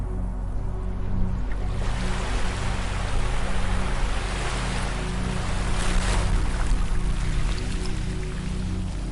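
Ocean waves washing onto a beach, a loud, continuous wash of surf that builds after the first couple of seconds and holds steady, with a low rumble underneath and no voices.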